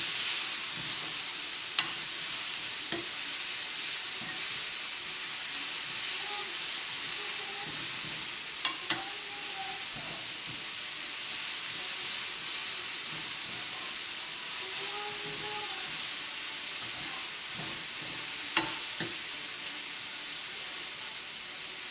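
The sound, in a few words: stirring leeks and tomatoes frying in a pan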